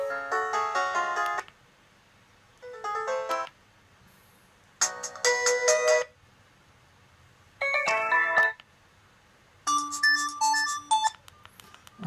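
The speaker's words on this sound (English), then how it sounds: "So I'm going to choose number 9 as my ringtone." Doro PhoneEasy 615 mobile phone ringtones play in five separate bursts of a few seconds each, bright electronic melodies with silent gaps between them and no talk over them.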